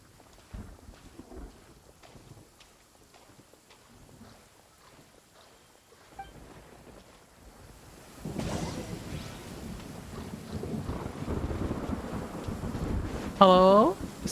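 A stormy scene in the game Genshin Impact, with quiet rumbling at first and then wind and heavy rain swelling into a loud continuous roar, punctuated near the end by a bright chiming effect.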